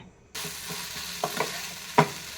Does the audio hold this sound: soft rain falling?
no